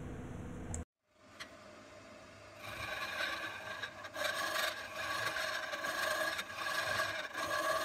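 Carbide turning tool cutting a wooden hedgehog on a lathe, carving the mouth; a steady close rasping scrape that starts after a short pause and holds fairly loud to the end, with no talk.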